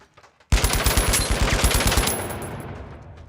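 Rapid burst of SCAR rifle fire in a video game, about a dozen close, loud shots in quick succession fading into a ringing tail.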